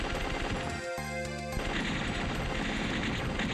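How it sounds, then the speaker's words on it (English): Rapid, continuous gunfire from the shmup Legend of the Steel Empire, dense rattling shots with a brief tonal blast in the middle, loud and steady throughout. "Can you hear me over all this gunfire?"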